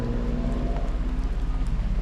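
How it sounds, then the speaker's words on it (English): Heavy rain pours down outdoors on a wet day, a dense, steady wash of drops close by with a continuous low rumble underneath and no voices. "Oh yeah, it's pouring out here."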